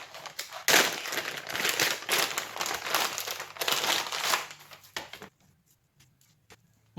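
Plastic packaging from an LED strip light kit crinkled and crushed in bursts of dry rustling close by, stopping abruptly into near silence with a few faint clicks.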